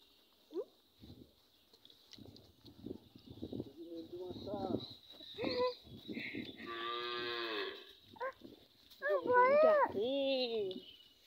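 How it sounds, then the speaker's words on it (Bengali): A cow moos in long, drawn-out calls, one around the middle and a louder one near the end, fairly close, with some faint voices and background noise between them. "গরু ডাকে"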